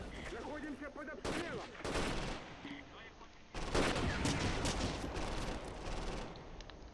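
Gunfire from a Close Combat World War II battle near Kharkov: repeated bursts of rifle and machine-gun fire with heavy volleys and a dense fusillade in the second half, loud and continuous over battlefield noise.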